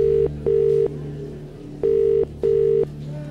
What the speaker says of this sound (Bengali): ফোনটা তো বেজে গেল